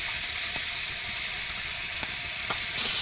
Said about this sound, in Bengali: পটলটা প্রথমে ভাজবো পটলের সঙ্গে একটা আলু আছে একসঙ্গে দেবো